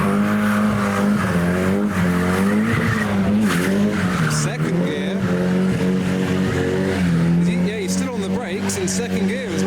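A Nissan S14 driving off from a car meet with tires squealing and the engine revving hard through the gears, loud and close, with voices and crowd noise mixed in.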